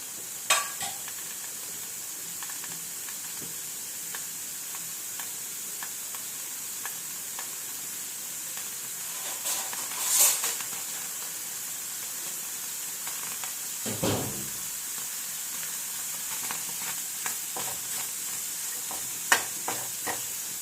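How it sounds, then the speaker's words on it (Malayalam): Shrimp fry in a hot pan, a steady soft sizzle with occasional crackles and the scrape of stirring, heard up close with no one talking. "ചെമ്മീൻ മേടിച്ചിട്ടുണ്ടായിരുന്നു അത് ഞാൻ കഴുകി വാരിയെടുത്താണത് പാത്രം ചൂടായിട്ടുണ്ട് വറുത്തെടുക്കാൻ"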